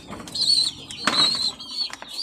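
Pigeon wings flap in quick, fluttering bursts close by, mixed with soft pigeon sounds and rustling.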